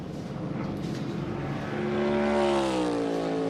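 Stock car engine at a racetrack during qualifying, a distant blurred roar that swells into a loud, rising harmonic whine as the car accelerates back onto the throttle past the listener.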